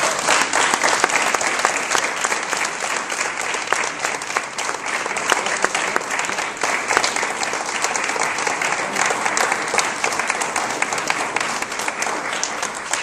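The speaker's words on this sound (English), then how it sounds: "Let's give this band a wonderful round of applause." A large audience gives a sustained, loud round of clapping for a middle school band at a university event, dense and continuous for the full thirteen seconds with no talking over it.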